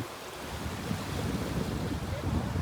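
Sea waves at Hedvi beach roll in a continuous low wash, mixed with wind buffeting the microphone, with no clear talk over the surf.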